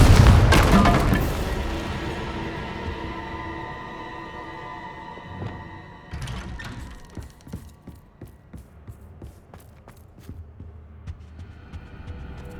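A Confringo explosion spell in Hogwarts Legacy opens with a loud, booming blast that rolls off into a long rumbling decay, followed by scattered faint game effects.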